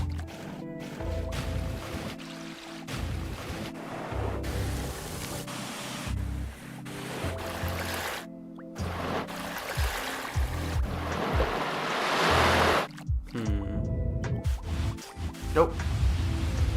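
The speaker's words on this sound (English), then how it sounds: "now let's get a waterfall sound." Continuous rushing waterfall ambience for a Ben 10 fan game, a broad hissing wash of falling water that is cut and restarted several times as it is previewed and swells louder toward the end.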